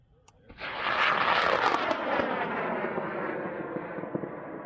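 A high-power model rocket ignites with a brief click, then a loud, roaring rush of motor thrust that surges and holds before slowly thinning as it climbs away, heard from a launch pad at a large rocketry event.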